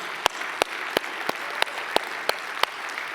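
A church congregation applauds steadily, with a sharp regular clap recurring about three times a second over a dense wash of handclaps.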